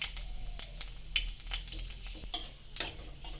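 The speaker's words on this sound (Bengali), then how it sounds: "ওই কড়াইয়ে তেলের মধ্যে দিলাম অল্প একটু পাঁচ ফোড়ন" Panch phoron, the Bengali five-spice mix, crackles and sizzles in hot oil in a wok, with a steady frying hiss broken by sharp pops and a few utensil clinks, close and moderately loud.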